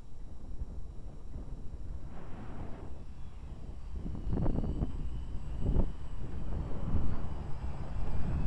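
A small E-flite UMX Carbon Cub SS RC plane flies in an 8-16 mph wind, its electric motor whining and surging with constant throttle changes over steady wind buffeting.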